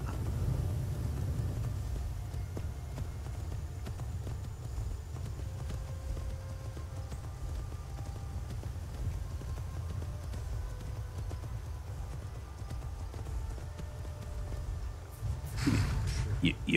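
Hooves of a spectral horse in the video game Skyrim clip-clop in a steady walking rhythm under a low rumbling ambience, ending with a brief rustle and thump as the horse stops.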